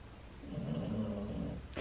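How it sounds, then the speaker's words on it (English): Steady nasal snoring from a small dog named as a pet, heard close and low in a quiet home, one drawn-out breath lasting about a second. "Cute Hershey is snoring away."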